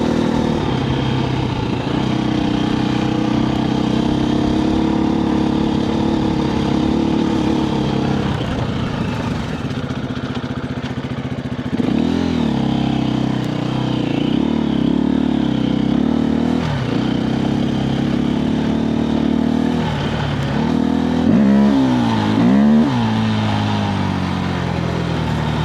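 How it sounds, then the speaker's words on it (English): KTM 350 EXC-F dirt bike ridden through the desert, its four-stroke motor and exhaust buzzing steadily close up, with repeated throttle blips and revs swelling and falling in the later half, no talking. "hopefully it's picking up the sound quality of the motor"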